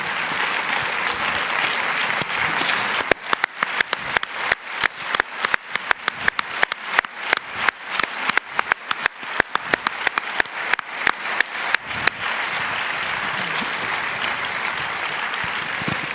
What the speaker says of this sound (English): Can you join us to applaud?